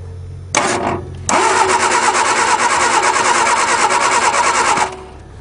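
A 1961 Ford Anglia engine cold starting: a brief starter crank and stumble, then it catches and runs at a loud, steady, high idle for several seconds before cutting off, recorded close by.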